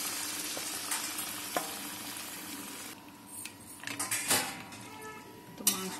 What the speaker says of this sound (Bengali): মশলাটা ভালো হয়ে গেছে, এবার দিয়ে দেবো মাংস।